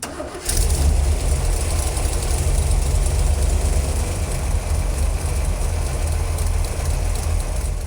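A COPO car engine runs at a steady, loud idle while the carburetor mixture screw is adjusted, a continuous low rumble that starts abruptly after a brief quiet moment and holds even throughout.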